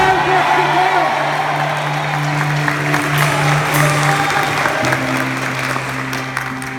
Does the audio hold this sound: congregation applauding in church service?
yes